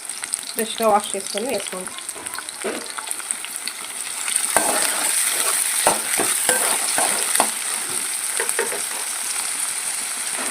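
Onions, curry leaves and green chillies fry and sizzle steadily in hot oil as a curry base for puri is cooked, the crackle building louder midway with occasional stirring clicks, while a person talks briefly at the start.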